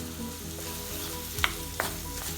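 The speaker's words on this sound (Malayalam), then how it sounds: "ഇനി ഇത് നന്നായി വഴറ്റി യോജിപ്പിക്കാം." Onion sizzles steadily in hot oil with green chillies, ginger garlic paste and curry leaves for a raw banana curry, and two brief spatula scrapes cut through the soft, continuous frying.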